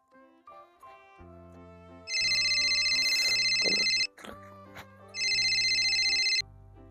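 A mobile phone ringtone plays a melodic electronic tune in two loud bursts, close and clear with no talking.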